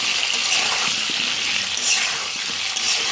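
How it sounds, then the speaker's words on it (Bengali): A steady, hissing sizzle of potatoes frying in oil, continuous and fairly close, with faint bubbling and no voices. "দিয়ে আলুটাকে আমি ভেজে নিচ্ছি"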